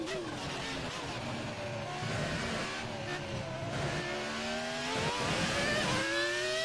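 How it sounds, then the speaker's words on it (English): In the F1 2018 racing game at the Italian Grand Prix, a Formula 1 car's engine screams close and continuous, its pitch climbing with revs and dropping sharply at quick gear changes. "But this car just sounds brilliant when it comes to pure noise. I will say, the gear changes just sound absolutely sweet."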